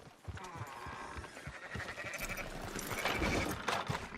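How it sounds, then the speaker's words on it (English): Sheep bleating in the video game Red Dead Redemption 2, several overlapping, wavering calls from a flock at moderate distance amid scuffling and ambient farm noise, without clear talk. "Fine sheep."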